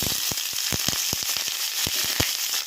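Onion fries in hot mustard oil in a kadai, giving a dense, steady sizzle broken by sharp pops and crackles throughout.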